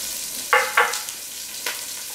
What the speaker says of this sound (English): Let it saute a little.